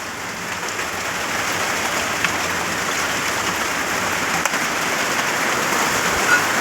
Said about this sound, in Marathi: आता तर लय वाढ आहे बघा पाऊस.